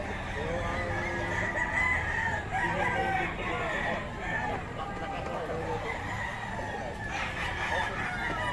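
Stag gamecocks at a rooster market crow several times, loud and close, one crow overlapping the next, with clucking and people talking throughout.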